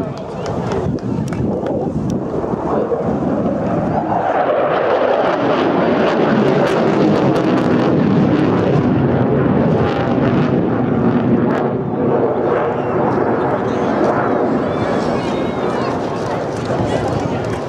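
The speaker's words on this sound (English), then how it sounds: "So in from the right, at high speed. He's doing a turn. The RAF Typhoon display pilot, Flight Lieutenant Noel Rees." An RAF Typhoon fighter jet at the Clacton-on-Sea air show in Essex rushes past at high speed and turns, a loud, sustained roar swelling and holding steady for the whole stretch.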